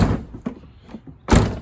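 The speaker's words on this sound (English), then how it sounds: "I'll just shut the door for you" A Toyota Land Cruiser Prado LC120/LC150 rear door shuts with a firm, loud slam at the end, preceded by softer knocks and thumps from handling the door.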